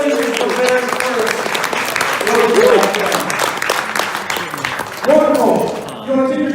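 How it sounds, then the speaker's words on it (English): Tournament audience applauding at an event for the Rokugan card game, a sustained crowd clapping with cheering voices mixed through it and people talking over the noise. "Give us all a round of applause"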